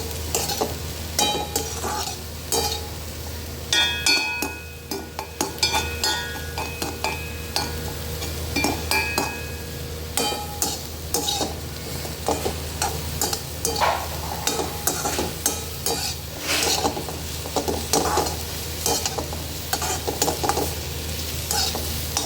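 Mushrooms and chicken stir-fry in a pan with a loud, constant sizzle cut by rapid rhythmic scraping and clacking of a utensil through the whole stretch, no talking.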